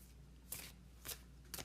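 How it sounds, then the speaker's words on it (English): A deck of flower essence cards is shuffled close by in three short riffled bursts, each a crisp flutter, separated by quiet pauses over a low background hum. "I have these flowers shuffled"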